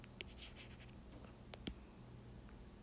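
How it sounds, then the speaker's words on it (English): Pen writing on paper during a math explanation, faint scratchy strokes and a few soft taps, quiet and close with no talking. "I'm just going to write this below."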